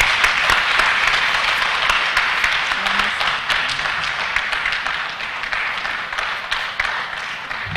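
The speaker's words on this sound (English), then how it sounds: "the audience has done it so well, a befitting hand clap" A crowd applauds at a public lecture. The clapping is dense and continuous, stays loud throughout and tapers slightly toward the end.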